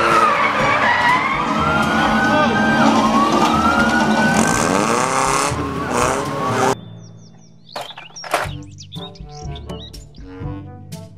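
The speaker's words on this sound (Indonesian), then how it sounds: "Mobil polisi." A toy police car siren wails in a rising and falling tone for several seconds, loud and continuous, then cuts off into a few short electronic chirps and bursts.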